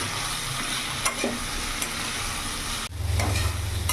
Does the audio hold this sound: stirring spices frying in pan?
yes